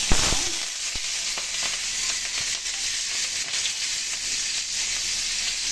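Cumin seeds and chopped onion fry in hot oil with mustard seeds, giving a steady, close, even sizzle that holds throughout with no voices over it.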